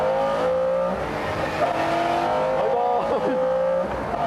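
A Lotus Esprit, McLaren F1 and other sports cars race on a track. Their engines rise in steady, high-pitched accelerating whines with overlapping tones as they pass, and a commentator talks over the noise.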